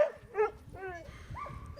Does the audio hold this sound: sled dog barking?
yes